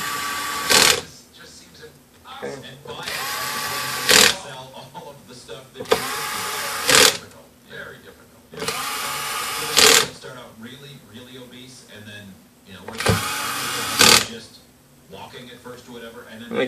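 An electric torque driver set to a low torque fastens the lid screws on a Panasonic CF-19 rugged laptop, giving about five short, whirring bursts at regular intervals. A person talks quietly between them.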